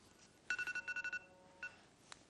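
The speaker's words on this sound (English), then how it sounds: "The phone just started ringing and you can show it" A phone goes off during a card magic trick with a short run of seven quick, evenly spaced electronic tones, then one more a moment later. The tones are faint and thin, with no talk over them.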